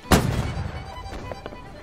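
A ship's cannon fires in a Holdfast naval battle video game: one loud blast with a fading rumble, followed by a few faint clicks.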